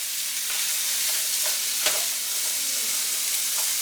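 Butter melting in hot olive oil in a pan, a loud, even, continuous sizzle close up, with a low steady hum beneath and no talking.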